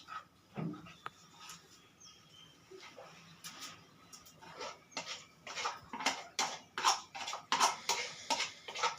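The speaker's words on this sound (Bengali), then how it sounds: "এবার এর মধ্যে আমি চিংড়িটা দিয়ে দিচ্ছি" Prawns go into a small kadai with clattering and clinking of utensils against the pan, sporadic at first and then a busier run of sharp taps and scrapes close by.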